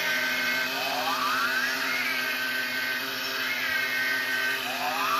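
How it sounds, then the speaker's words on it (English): The motorized light bar mechanism on a Ghostbusters Ecto-1 model kit whirs continuously, a close, thin mechanical whine with repeating rising and falling pitch sweeps every second or two. "but it is a mechanical whir"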